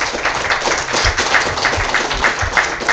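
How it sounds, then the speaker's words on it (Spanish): Applause from an audience at a local community talk on free software, steady dense clapping running throughout, fairly loud and continuous without speech. "Démosle un fuerte aplauso."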